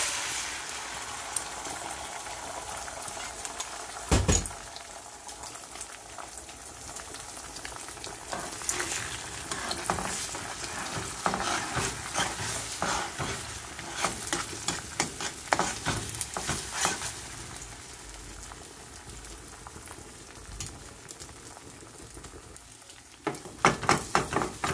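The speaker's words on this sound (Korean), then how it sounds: "후라이팬에다가 기름을 살짝 두르고 계란을 먼저 볶아냅니다" Eggs stir-fry in a lightly oiled frying pan, with a close crackling sizzle and frequent quick scraping strokes of a utensil, some louder clatters near the start and end, and no talk.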